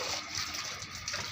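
Water scooped from a tank and poured out in a steady, continuous splashing gush, close and fairly loud, with no talk over it.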